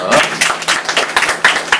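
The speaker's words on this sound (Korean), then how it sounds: "일단 박수 한번 주세요" Scattered clapping from a small audience at a talk show on the digital divide, a handful of uneven bursts of hands with a voice mixed in over them.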